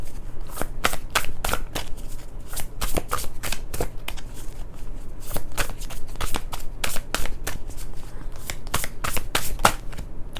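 An oracle card deck being shuffled up close, with rapid bursts of crisp riffling clicks and flutters repeating steadily over several seconds.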